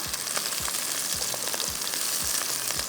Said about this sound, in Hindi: पहले गाजर डालेंगे, थोड़ी सी गाजर को फ्राई करेंगे